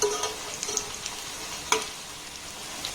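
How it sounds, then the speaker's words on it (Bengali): Egg paratha frying two at a time in a large frying pan over a low gas flame, a soft, continuous sizzle with occasional light taps and clicks from turning. "তাই আমি এখানে দুটো দুটো করে ভেজে নেব"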